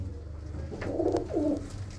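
Healthy pigeons kept by a fancier, with young ones in the loft, give two soft, low cooing calls in quick succession, close by over faint background hum.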